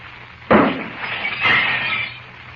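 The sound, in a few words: glass pitcher exploding, radio drama sound effect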